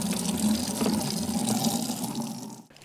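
Water pouring from storage totes into a bucket outdoors, a steady close splashing gush with a filling tone that continues throughout and briefly drops off at the end.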